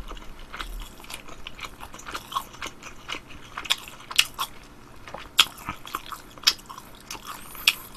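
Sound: chewing tangsuyuk, Korean sweet and sour pork

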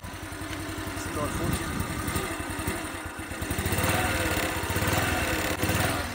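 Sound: Becane 33 Nejma moped engine running

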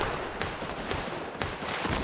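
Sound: gunfire from teams fighting in a video game

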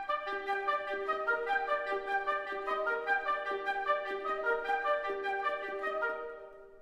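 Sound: orchestral ostinato, repeating note pattern representing falling snow

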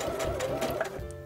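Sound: Passport 3.0 sewing machine sewing a tack stitch

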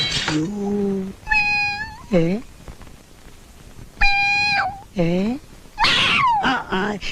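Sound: cat meowing

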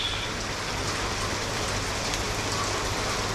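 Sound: monsoon rain on shed roof

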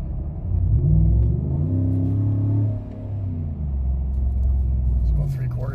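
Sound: Chevrolet Silverado engine with aFe intake accelerating

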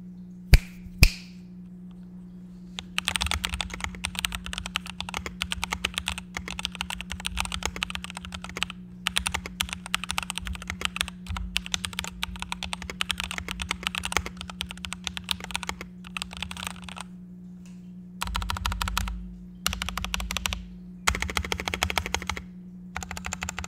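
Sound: typing on EPOMAKER EP84 keyboard with Ink Black Silent switches

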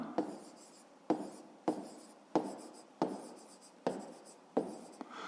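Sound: writing down a math answer

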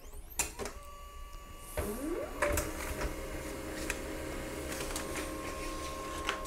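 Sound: Pantum P2500W laser printer printing a page

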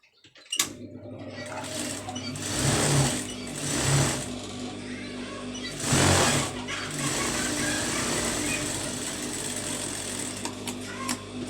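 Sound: sewing machine stitching a blouse sleeve

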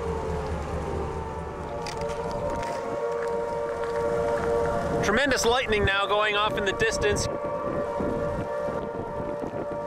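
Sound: tornado sirens going off in the distance

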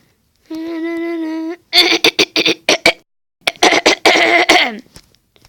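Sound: cough

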